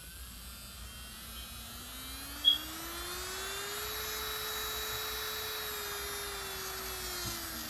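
A small electric nail drill whines steadily, its pitch rising as it speeds up and then holding a high, continuous buzz.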